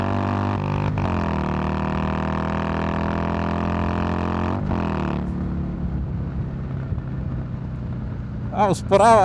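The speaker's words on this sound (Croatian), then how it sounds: "Ovaj motor ti je da ga voziš ovako i da kuliraš. Znači da slušaš ovaj zvuk kako on prede" A Harley-Davidson Iron 883 motorcycle engine rumbles steadily while being ridden, a loud, continuous low drone that briefly shifts pitch twice. Wind buffets the microphone throughout.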